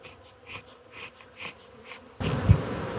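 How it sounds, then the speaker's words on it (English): Honey bees buzz during a hive inspection, first as faint scattered buzzing passes, then a sudden louder, agitated swell of buzzing close by near the end. "Bees didn't like that."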